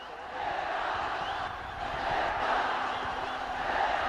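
A cricket stadium crowd chants for Nepal during a match against the West Indies, a broad roaring mass of voices swelling in waves, distant and sustained.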